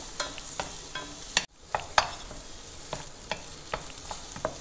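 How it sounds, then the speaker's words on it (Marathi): Dates and fresh figs are sautéed in a little ghee in a pan, a light sizzle broken by sharp spatula scrapes and taps every half second or so, close and moderately loud, no talking. "मी अगदी थोडंसं तूप घालते, त्याच्यावरती एक 4 खजूर आणि 4 ओले अंजीर, 4 अंजीर हे दोन्ही एक 2 मिनिटं परतून घेते"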